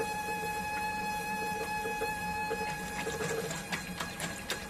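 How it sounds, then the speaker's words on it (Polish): Gurgling and sputtering water with small pops and hisses over a steady mechanical hum, as air is purged from a reverse osmosis water filter system. "Słychać jak się system odpowietrza."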